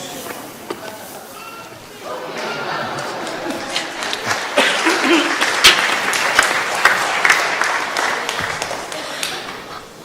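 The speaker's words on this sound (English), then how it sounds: "Let the applause be for yourselves as the blessed people of God." A church congregation at Christ Church Harrogate applauds during an Easter-season Sunday sermon, starting thin and swelling into fuller, louder clapping that fills the room, with some chatter and shuffling mixed in.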